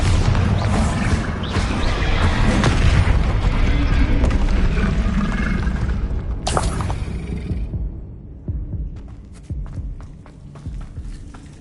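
Bombarda spell explosions in Hogwarts Legacy sit inside a loud, dense wash of combat noise, with a sharp burst about midway and then sparser, scattered impacts as the din thins out.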